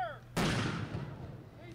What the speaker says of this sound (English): held its annual Memorial Day ceremony, complete with cannon fire